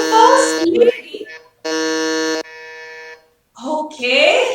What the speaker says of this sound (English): Mr. Vijay, first one on the buzzer.